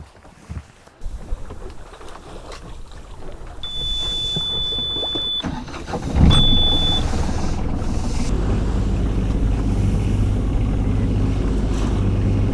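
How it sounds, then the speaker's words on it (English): Sailboat motoring at sea at about 5 knots with the sails still up in light wind, heading back from Anholt island, Denmark: a steady engine drone and rushing water settle in after a loud start-up, with wind buffeting the microphone. "So now we're motoring, doing 5 knots again."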